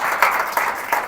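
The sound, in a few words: congregation applause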